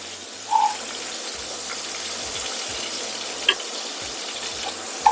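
Patol and shrimp frying in hot oil give off a steady, soft broadband sizzle that runs the whole time, with a few brief clinks of a utensil against the pan. No one talks.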